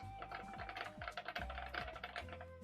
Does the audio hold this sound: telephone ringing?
no